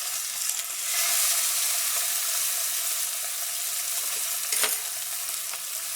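A salmon burger patty frying gently in a pan gives a steady, close hiss of sizzling oil with one short sharper crackle midway.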